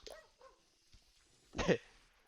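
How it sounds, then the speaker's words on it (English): A dog in the video game Sea of Stars gives a single short, loud bark after a few faint yips, standing out against an otherwise quiet game background. "Hear the bark again."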